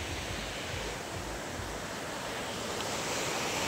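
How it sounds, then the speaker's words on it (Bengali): Fast-flowing flood water rushing past an embankment near a bridge, a steady, broad roar of churning current that continues without a break, with some wind buffeting the microphone. "এই যে দেখো জলের পরিস্থিতি কি হারে চলছে, জলের গতিবেগ দেখো"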